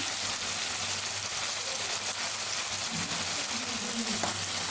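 Onions frying in a pan for an Indian home-cooked bambino dish, a steady close sizzle with faint stirring scrapes throughout.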